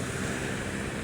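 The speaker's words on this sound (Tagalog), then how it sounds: "dito tayo sa may gilid ng ating alon. Ayan, no, pero malina lang, no. Mahina lang yung ating alon." Small, gentle waves lap along the Manila Bay shoreline in a steady, close wash of surf, with breezy wind noise against the microphone and no talking.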